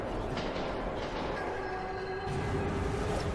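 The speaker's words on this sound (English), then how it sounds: "It's a ghost train." A ghost train rolling through a tunnel in the video game Metro 2033, a steady dense rumble of wheels and carriages with faint metallic squeals, heard close and continuous without talk.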